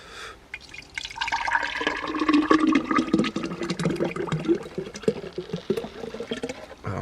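Grape juice from organic grapes being poured into a container for making vinegar, a close, gurgling, splashing flow that builds quickly and keeps running with irregular bubbling and drips.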